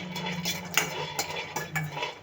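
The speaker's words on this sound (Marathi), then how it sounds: "कढईमध्ये मी घातलेले आहेत शेंगदाणे शेंगदाणे घेतलेले आहेत मी अर्धी वाटी तर छान याला भाजून आहे" Metal spoon scrapes and clinks against a wok in quick, irregular strokes as half a bowl of dry peanuts rattle and shift while roasting over a very low flame, close and fairly quiet.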